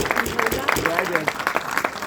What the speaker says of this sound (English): let's give Mr. Raymond an applause.